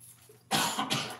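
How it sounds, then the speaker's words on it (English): A person lets out two sharp, harsh coughs in quick succession after a moment of quiet, close to the microphone. "It's a cough that's been going on."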